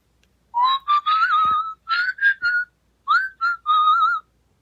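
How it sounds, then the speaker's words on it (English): A cat character's whistling from a sound button in a farm-animal sound book: a clear, loud melodic whistled tune in several short phrases with brief pauses, heard alone. "The cat is whistling as she works."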